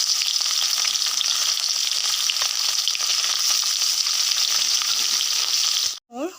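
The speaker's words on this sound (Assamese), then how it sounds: "তেলখিনি গৰম হোৱাত মই ইয়াত মাছকেইটা ভাজি ল'ম" Fish frying in hot oil in a kadai for a taro curry: a steady, dense sizzle and crackle that holds evenly for about six seconds, then breaks off abruptly into a brief different sound at the end.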